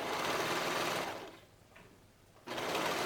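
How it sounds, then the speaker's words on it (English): An overlocker sewing machine runs in a steady, loud whir as it stitches along a fabric edge for a sweater hem, briefly quieting midway before resuming at full speed. "Overlock the edge."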